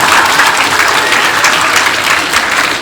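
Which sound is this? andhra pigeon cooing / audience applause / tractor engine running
audience applause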